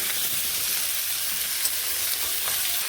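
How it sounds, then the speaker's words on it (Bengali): Pumpkin, pointed gourd and potato stir-frying together in a pan, a steady close sizzle and hiss of oil with faint scraping from the stirring, with no talking. "কুমড়ো পটল আলু একসঙ্গে এইভাবে নেড়ে ভেজে নেবে"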